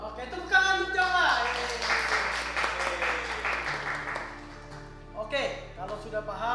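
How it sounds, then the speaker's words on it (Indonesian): Brief clapping for Japa in an Indonesian short film about voting, fairly faint and mixed under talking voices and background music. "tepuk tangan untuk Japa"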